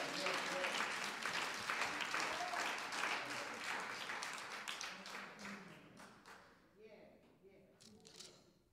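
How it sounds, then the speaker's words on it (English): A church congregation claps hands in praise during a noon Bible study, a loud dense burst of applause that gradually thins and fades toward the end, with some voices mixed in. "Give God a hand clap of praise."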